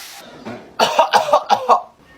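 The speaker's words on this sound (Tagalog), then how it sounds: "Inuubo ka ba? Opo, inuubo po ako." A child coughs in a quick series of five or six short, close barks after a brief softer sound.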